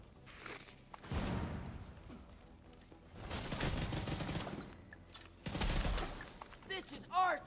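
Frag grenade blasts in a video game, several heavy low booms with debris-like crackle spread over a few seconds, mixed with background game noise and a voice.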